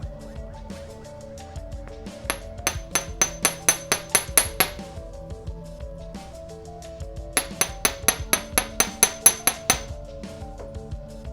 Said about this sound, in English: and hammer it on the other side as well